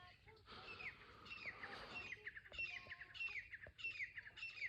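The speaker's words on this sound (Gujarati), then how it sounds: "અને સવારમાં કંઈક પંખીડા બોલે નહીં એનો અવાજ આવે છે" Village birds call in the morning, sharp squawking notes repeating in short bursts at a moderate distance, with some quiet talk in the background.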